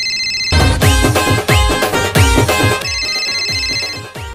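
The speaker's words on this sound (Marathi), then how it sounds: "पम्या भाई जो फोन वाजतो बघ." A telephone ringtone plays loudly and alone, a repeating musical melody of bright tonal chimes in regular phrases for several seconds.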